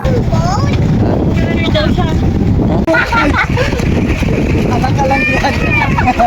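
A boat carrying an island-hopping group crosses open sea, with a steady loud engine and wind rumble running under lively shouting and chatter from people aboard.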